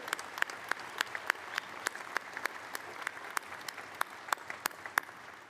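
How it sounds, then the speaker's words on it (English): Scattered applause from a commencement audience, individual sharp claps ringing out above a softer bed of clapping, moderately distant in a large hall. "So how about another round of applause for Victoria?"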